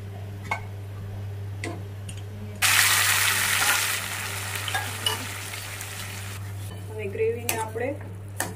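Gravy for dum aloo sizzling and frying in oil in a pan, with close stirring scrapes and clinks and a loud burst of hiss midway, under a steady low hum.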